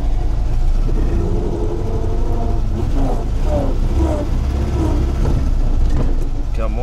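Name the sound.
GAZ 21 car engine during a test ride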